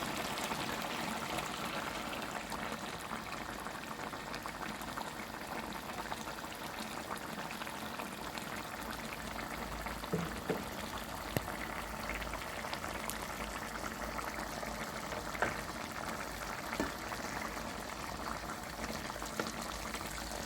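Coconut milk simmering with a bitter gourd curry in a pot, a soft, continuous bubbling hiss with occasional faint pops and ticks, quiet and close, no talk.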